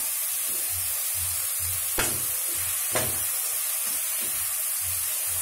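Half-boiled green peas and fried rice frying in a pan on high flame, making a loud, continuous sizzling hiss with a couple of sharp spatters and soft stirring thumps.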